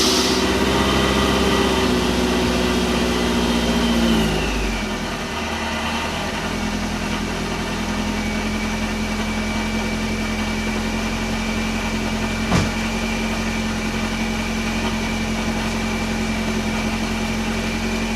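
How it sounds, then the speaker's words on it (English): A tuned car's engine cranks and catches, then settles into a smooth, steady idle with a constant low hum that carries alone to the end, with one brief click partway through. "Let me give you a real quick startup and show you how smooth this thing idles."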